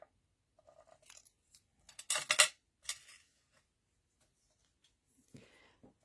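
Scissors snip through paper during an Easter basket card-craft project, two or three quick close cuts clustered together, with faint rustling before and after and no talk.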